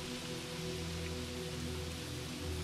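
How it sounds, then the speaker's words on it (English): Steady rain falls in a continuous soft hiss, with no distinct drops standing out, layered over low sustained droning tones. "the rain begins to fall harder, a trickle of water turning into a drizzle"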